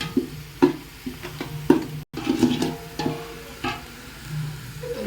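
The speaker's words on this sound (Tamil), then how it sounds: "நல்லா எண்ணெய் விட்டு வணக்கி" Country chicken sautéed in oil with turmeric in a home kitchen, with a spoon scraping and stirring in irregular strokes over a soft, low sizzle, close by and moderately loud, with no talking.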